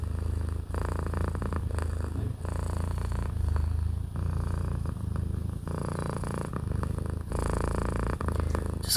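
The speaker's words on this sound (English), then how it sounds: "Just gonna wait for her to finish the purring session" A cat purrs steadily and close up for several seconds, a soft rhythmic rumble rising and falling with each breath, heard alone without talk.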